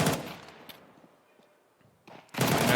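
Mag 7 shotgun fire in a Counter-Strike esports match: a loud, dense burst of gunfire opens, a near-silent gap follows with a few faint clicks, then another heavy blast of shots closes.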